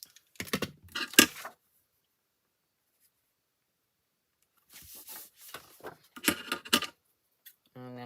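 Paper is trimmed on a handmade card with a snowy theme, heard as two short, close bursts of crisp scraping and clicking separated by several seconds of silence, with a final small tick at the end.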